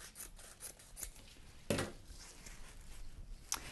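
Scissors snip close by in a few soft, crisp cuts, with faint rubbing of material between them during a crafting job.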